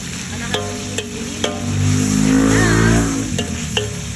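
Meat cooking in a pan with oyster sauce being stirred, sharp metallic clanks of a utensil against the pan in an irregular series over a low sizzle and rumble, with a brief swelling murmur in the middle.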